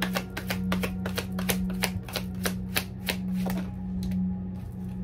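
Tarot cards being handled and drawn from the deck, a quick run of crisp, regular flicking clicks that slows and thins out toward the end, close over a low steady hum with no talking.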